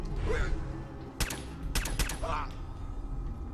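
Gunfire in the video game Fallout 4: a handful of sharp, loud shots crack out in a short irregular burst over a low rumbling background, with brief faint vocal sounds around them.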